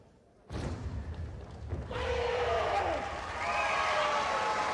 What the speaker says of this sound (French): Et le public qui applaudit